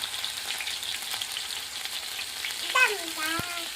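Vegetables and pounded chili fry in a little oil in a pan in a village kitchen, a close, even sizzle ending with a brief scrape and clink of a spoon.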